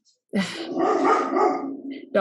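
A dog indoors barks and whines insistently while a podcast is being recorded, in one sustained, close, fairly loud outburst that rises and trails off.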